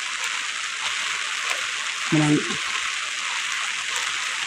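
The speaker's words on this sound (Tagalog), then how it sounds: "maghapon mag-inani gid permanenteng ulan" Steady rain falls in a broad, even hiss, continuous and close throughout, with a voice briefly cutting in around the middle.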